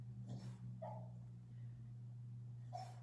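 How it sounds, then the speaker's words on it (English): A pet dog whimpers softly in its sleep while dreaming, two or three faint, brief whines rising over a steady low hum in a quiet room. "If you hear sound effects, it's my dog dreaming."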